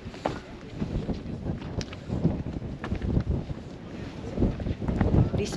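Wind gusts across a high cliff at Preikestolen (Pulpit Rock) above a Norwegian fjord, buffeting the microphone in uneven, rumbling bursts that continue throughout and swell louder near the end.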